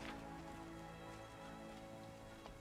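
Steady rain falls throughout in the fantasy RPG Pathfinder: Wrath of the Righteous, a dense, continuous hiss of drops spattering on surfaces, even and unbroken with no talk over it.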